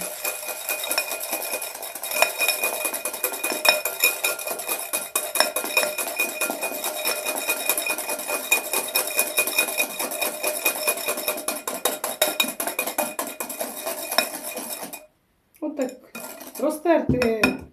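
An egg being rubbed with vanilla sugar in a bowl makes a rapid, continuous clatter of utensil against the bowl for about fifteen seconds, close and loud, then stops; a few brief scrapes and knocks follow.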